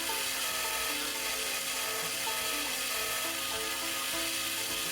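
A high-RPM buffing wheel working G10 knife handle scales gives a steady, close whirring hiss with a faint rubbing grind, unbroken for the whole stretch.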